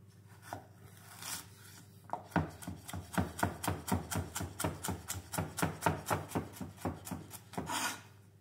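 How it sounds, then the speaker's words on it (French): Knife chopping carrots on a board for a mirepoix, a rapid, even run of close, crisp cuts after a few scattered strokes, about twenty-five in steady rhythm, with no talk. "Je vais faire une mirepoix avec les carottes."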